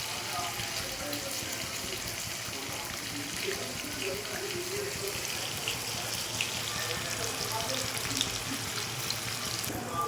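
Water drains from freshly washed fenugreek leaves in a faint, steady hiss and trickle that runs unbroken throughout, without talk.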